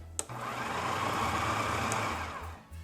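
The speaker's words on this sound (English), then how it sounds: "give the onion and the jalapeno pepper about 10 revolutions in your food processor" Food processor whirring through onion and jalapeno pepper for salsa ranchera, one steady loud motor run of about two seconds, its low hum pulsing slightly as the blade spins, then winding down.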